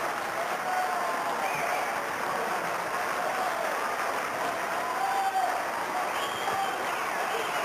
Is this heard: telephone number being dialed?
no